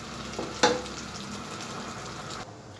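Chickpea cholay with tamarind water cooks in a pan, a low bubbling sizzle running steadily with one sharp clink or stir near the start before it quiets slightly.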